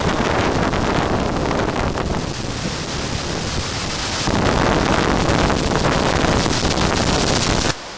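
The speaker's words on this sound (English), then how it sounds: "The winds aren't dying down." Strong hurricane winds from Hurricane Ike gust hard across the microphone, a loud continuous roar that surges and eases in waves before cutting off sharply at the very end.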